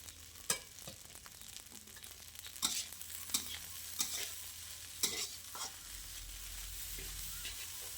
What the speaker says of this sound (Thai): ผัดแห้งๆ หน่อยจะอร่อยนะคะข้าวผัด